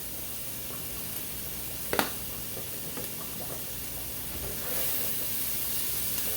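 Garlic cooks in a pan over a gas flame with a soft, continuous sizzle and hiss, a brief clink partway through and no voices.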